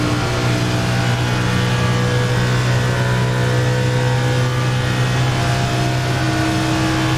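A NASCAR Cup car in the iRacing simulator at Talladega holds a loud, steady engine drone at nearly constant pitch, with no talking.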